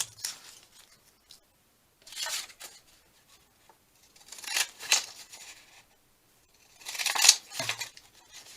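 Scissors snip through paper while faux stamps are cut out for a junk journal, heard as three separate bursts of crisp cutting with quiet gaps between them, close to the microphone and with no talk.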